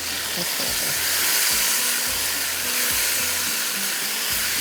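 Boiled meat and bone pieces are stirred and fried in a pot for Peshawari kheer, giving a loud continuous sizzle and hiss with low scraping thumps from stirring.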